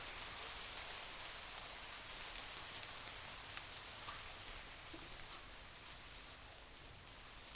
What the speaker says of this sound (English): Looks like it's raining, so we're not going to need to.